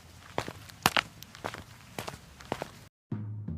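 Footsteps of someone walking along a path toward a village, as a story sound effect: quiet, unevenly spaced crunching steps on a rough surface, fairly close, then a brief gap and a low muffled thud.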